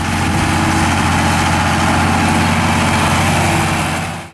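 A John Deere 4020 tractor's naturally aspirated six-cylinder 404 cubic-inch diesel runs loud and close with a steady, heavy idle throb, then cuts off abruptly at the end.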